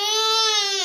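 A child cries in one loud, close, sustained wail that breaks off abruptly at the end.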